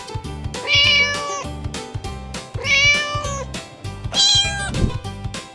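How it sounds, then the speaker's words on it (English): A domestic cat meows three times, each drawn-out call rising and falling, close and clear over a light rhythmic music bed with no talking. "Cat,"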